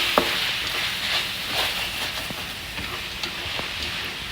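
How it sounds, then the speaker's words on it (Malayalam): Lamb liver is stirred into masala frying on low flame, making a continuous soft sizzle punctuated by occasional spoon taps and scrapes against the pan. "ഒരു kg ലാമ്പ് ലിവറാണ് ആഡ് ചെയ്യുന്നത്. നല്ലപോലെ മിക്സ് ചെയ്ത് കൊടുക്കാം."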